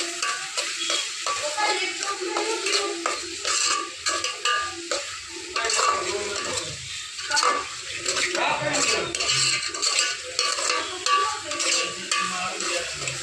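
Onions seasoned with turmeric and salt are stirred in a hot pan, a steady sizzle broken by repeated scraping and clinking of a spoon against the pan, close and fairly loud with no talk.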